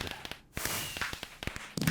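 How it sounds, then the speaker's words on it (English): Sharp crackling pops and booms from fireworks in the GregTech New Horizons Minecraft modpack, celebrating completion of an Alloy Blast Smelter, as a quick irregular string of bangs over a steady hiss. "Yay, lots of loud booms, fireworks, and so on. Alloy Blast Smelter is done."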